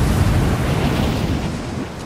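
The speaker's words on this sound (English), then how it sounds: "This wind is crazy." A fierce wind roars across a snowy mountain summit in Rise of the Tomb Raider as a loud, rushing gust that barely varies. The wind is close and unbroken, with no speech.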